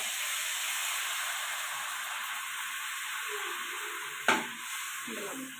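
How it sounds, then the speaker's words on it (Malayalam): Tamarind water meets a hot pan of chili and turmeric powder for a fish head curry, giving a soft steady sizzle and hiss, broken once by a sharp utensil click near the end. "മുളക് പൊടി മഞ്ഞൾപ്പൊടിയുടെ കുത്തൊക്കെ ഒന്ന് മാറുമ്പോൾ പുളിവെള്ളം ഒഴിച്ച് കൊടുക്കുക"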